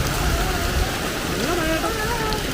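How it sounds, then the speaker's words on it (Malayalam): Heavy rain pours in a steady, dense hiss, close and loud, with a faint voice audible beneath the downpour. "നല്ല മഴ കേട്ടോ."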